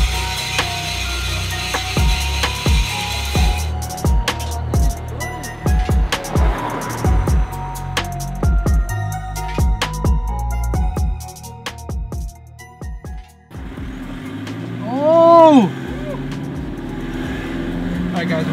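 A right-hand-drive Mitsubishi Delica van on a test drive gives a low engine drone, with scattered clicks and knocks in the cabin and a short whining tone near the end.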